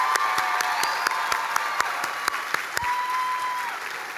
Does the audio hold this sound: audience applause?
yes